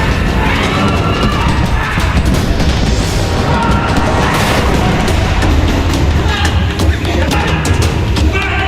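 Dense, continuous gunfire and booming blasts in an active shooting scenario, loud and chaotic, with overlapping bursts and crashes filling the whole stretch without a pause.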